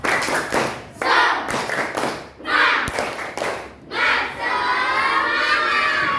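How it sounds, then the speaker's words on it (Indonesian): Children in a classroom perform a rhythmic spirit clap, groups of synchronized claps alternating with shouted chant bursts, loud and close, ending in sustained group shouting. "Tepuk semangat."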